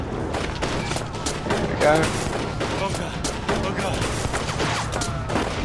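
Rapid gunfire from a street confrontation in 1979 Revolution: Black Friday, a dense volley of sharp overlapping shots continuing throughout, with someone briefly speaking over it.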